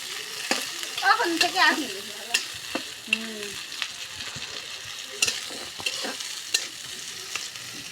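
Sliced onions are stirred as they fry in a pan, a continuous sizzle broken by scraping and clinking of the spoon, with a person speaking briefly over it and a higher voice heard in the background.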